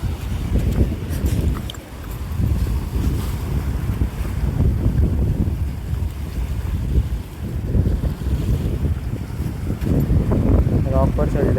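Sea waves washing onto a deserted rocky beach in Konkan, with heavy wind buffeting the microphone, a continuous rumbling surge rising and falling; a voice talks over it at times.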